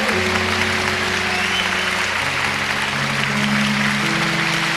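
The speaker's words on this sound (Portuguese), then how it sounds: "Pode aplaudir, eu sei que você queria aplaudir, pode aplaudir." Loud, dense applause from a church congregation during a sermon fills the room continuously, with sustained tonal music or organ droning underneath.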